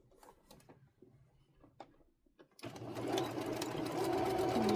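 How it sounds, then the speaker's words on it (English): After a couple of seconds of quiet handling and small clicks, a sewing machine starts up and runs steadily and fairly loud while joining quilt blocks, with the seam sewn flat across the fabric. "Now, I need to put my pretty sides together and sew them."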